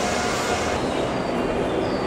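A Tobu special train arriving at Asakusa Station rumbles steadily nearby, a broad low roar of wheels on rails with some faint higher ringing tones, continuous throughout.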